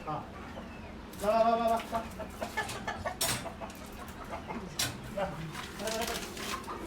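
Chickens clucking in a home yard, with several close bursts of clucking and squawks over a few seconds, mixed with people talking nearby.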